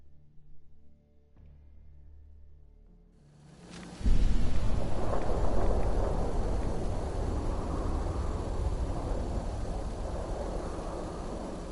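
Thunderstorm in the video game Fallout 4, a quiet lull and a faint distant rumble, then a loud thunder crack that opens into a steady, heavy roar of rain and storm noise that fills the rest of the stretch.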